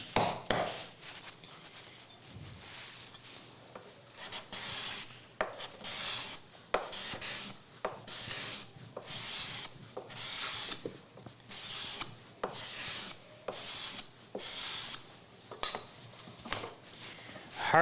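Card scraper dragged across a piece of Koa wood, producing repeated short rasping strokes in a steady back-and-forth rhythm, close and fairly loud with brief pauses between passes.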